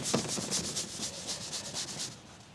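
Paintbrush scrubbing paint back and forth over a dried painted surface, a quiet, close, rhythmic rasp of roughly ten regular strokes.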